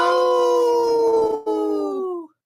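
A wolf howls in one long, loud, sustained wavering note that dips briefly, resumes and then slides down to stop, heard alone and close with no other sounds.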